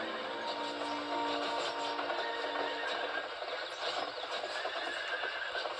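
A horse whinnies in the Narnia Prince Caspian video game, a clear drawn-out neigh standing alone over faint mechanical clicking and hoof sounds.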